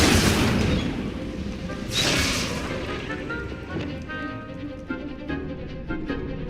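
An Incendio fire spell is cast in Hogwarts Legacy, a loud whooshing burst with booming impacts, followed by a second flaring burst and crackling fire trailing off amid game effects.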